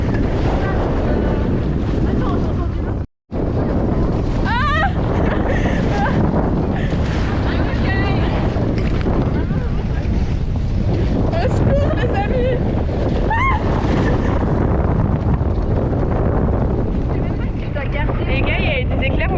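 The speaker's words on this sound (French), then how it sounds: "Plus on avance, plus il y a le vent." Strong storm wind in Brittany roars steadily and buffets the microphone, with a rushing, water-like rumble underneath and voices talking through it.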